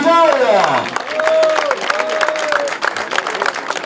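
Crowd applause at a veterans' pétanque tournament in Chusclan-Laudun, steady clapping under a loud voice talking over a public address system.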